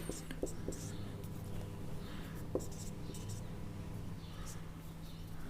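Marker or chalk scratching on a board during a class 11 biology lesson, with soft squeaks and taps over a steady low hum and faint murmuring.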